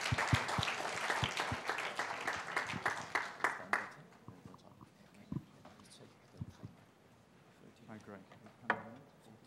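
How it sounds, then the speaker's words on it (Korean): An audience at a forum session applauds to welcome a speaker to the stage, a loud burst of clapping that fades out after a few seconds, leaving scattered faint taps and room noise. "뜨거운 박수로 부탁드리겠습니다"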